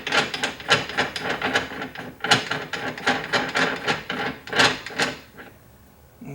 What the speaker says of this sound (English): I'm going to take my body die and I'm going to screw it down